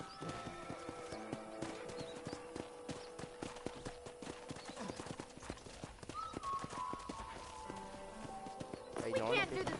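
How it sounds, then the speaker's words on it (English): Steady clip-clop of a ridden horse's hooves in a video game, the rhythmic footfalls running at moderate volume beneath speech, with a brief whinny near the end. "let's see if you can still ride a horse"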